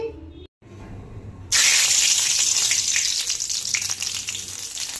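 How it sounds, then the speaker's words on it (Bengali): Whole cumin seeds, asafoetida and two dried chillies hit hot white oil for chana dal tempering. After a brief quiet, a sudden loud, close sizzle erupts and keeps crackling steadily. "এখানে ফোড়নে দিলাম জিরে, গোটা জিরে, হিং আর দুটো শুকনো লঙ্কা।"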